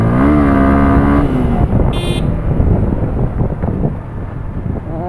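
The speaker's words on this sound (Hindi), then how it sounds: "मेरे को खाली इसका एक्सीलरेशन टेस्ट करना था कि हाँ भाई गाड़ी कैसा रिस्पॉन्स दे रही है" Yamaha R15 V2 motorcycle, about seven years old, accelerating hard during a performance test, its engine note climbing loudly through the revs, then a brief gear change and continued rough engine roar mixed with heavy wind noise.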